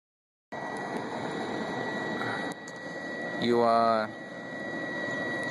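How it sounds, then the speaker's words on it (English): The fan of a BioLite camp stove runs with a constant whirring drone, close and fairly loud, rising briefly in pitch once, while a person talks over it. "I hope you can actually hear me speaking over the fan on this stove because it's really going right now."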